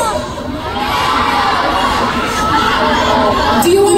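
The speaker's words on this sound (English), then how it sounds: "Let's give him a round of applause!" A fan meeting audience in Manila erupts in high-pitched cheering and shouting with scattered clapping, a loud, excited crowd that swells after a brief softer start, with voices calling out over the noise.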